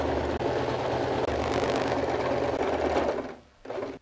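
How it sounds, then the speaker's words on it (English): A sewing machine runs a steady straight stitch through recycled jeans fabric, whirring loud and continuous near the mic, then briefly pausing before starting again. "Align the edge of the fabric to the edge of my presser foot on this side, and go and sew a straight stitch."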